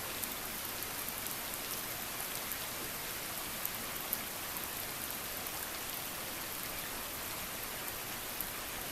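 Steady rain falls outdoors over Memorial Day weekend 2013, a dense, even hiss of drops on surfaces with occasional sharper patters, continuous and close, with no voices.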